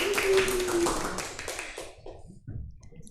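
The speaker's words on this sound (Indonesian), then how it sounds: "tepuk tangan untuk kita semua" A class gives a round of applause at the close of a microteaching lesson. Sharp hand claps start loud over a voice, then thin out into a few scattered claps before dying away.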